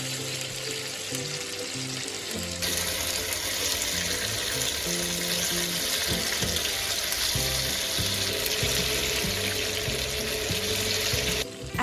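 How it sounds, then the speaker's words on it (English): Tofu pan-frying for scallion braised tofu, a dense steady sizzle with crackling oil, close and loud, with occasional clinks of a utensil against the pan and no talking. "Add the tofu and pan fry until both sides are golden."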